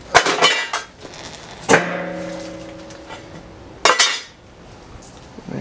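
Metal bolts for a baffle handled by hand, three sharp clinks and rattles, each ringing briefly with a metallic tone before fading, close up with no talk.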